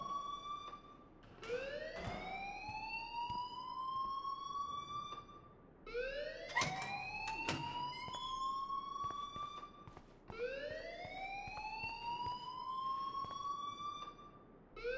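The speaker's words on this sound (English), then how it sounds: "please turn off that alarm since that's your job" A rising, wailing electronic alarm in the video game Life is Strange sounds in three long repeated sweeps, steady and fairly loud, with clattering noises in between.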